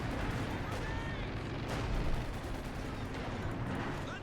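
Howitzer artillery fire in the World War II strategy game Company of Heroes 2, a dense barrage of booming blasts and rumbling impacts layered over the noisy clatter of battle.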